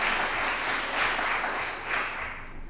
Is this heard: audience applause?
yes